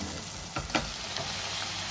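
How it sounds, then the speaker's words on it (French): Spices with parsley and coriander sizzle in a pan under a continuous close hiss, with a couple of brief stirring scrapes. "Donc là, j'ai mis mes épices. Je vais bien mélanger."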